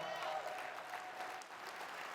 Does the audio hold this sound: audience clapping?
yes